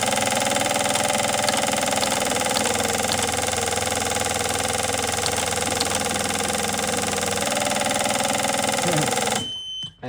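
An electric pump raising fuel pressure on an injector characterisation test bench toward 25 psi, a steady, loud mechanical drone with a constant tonal whine that runs unbroken for about nine seconds, then cuts off abruptly.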